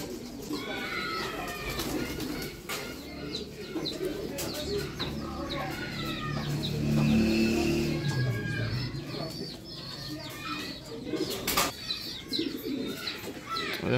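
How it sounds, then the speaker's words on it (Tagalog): Pigeons cooing outdoors in a loft area, repeated soft coos and chirps over a moderate background, with some faint talk. "dito yung mga kalapati natin."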